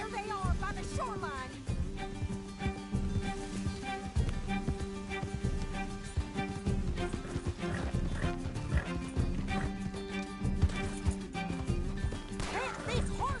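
Arthur's horse galloping in the Red Dead Redemption game, a steady clip-clop of hooves running through the whole stretch under a dense mix of game music, clatter and crashes.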